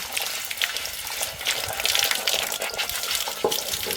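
Water splashes and swishes against a clay pot in uneven bursts, close up, as it is scrubbed and rinsed without soap.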